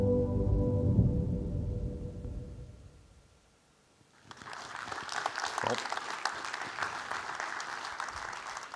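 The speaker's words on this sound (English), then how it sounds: "It certainly deserves your applause." An audience at an event on demining for the reconstruction of Ukraine breaks into applause, a dense, steady clapping that starts midway after a stretch of speech and a quiet pause, moderately distant and sustained to the end.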